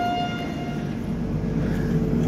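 A train pulls into Faridabad railway station in the morning, a steady heavy rumble filling the platform with a faint sustained horn-like tone above, loud and continuous throughout.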